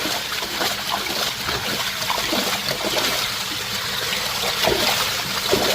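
Dirty, muddy water pouring out of an open gate valve on a filter box, a steady rushing trickle and splash at close range with no pauses.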